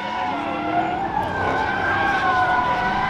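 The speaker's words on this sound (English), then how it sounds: "Lots and lots of tire squealing going on over there" Drifting cars at a Dodge Thrill Rides autocross at HolleyMoparty squeal their tires. Overlapping, wavering screeches carry on continuously at a moderate distance over a steady background engine rumble.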